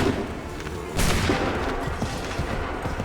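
Musket volley gunfire in Assassin's Creed 3, a dense crackling burst of shots loud and close, then a sustained noisy rumble of scattered fire and battle ambience.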